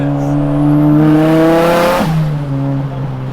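Nissan S15 Silvia with a 2.35-litre SR23 stroker engine, big turbo and external wastegate, revving loud and close with a steady harmonic drone, a sharp shift near the middle, then pulling on again inside the cabin.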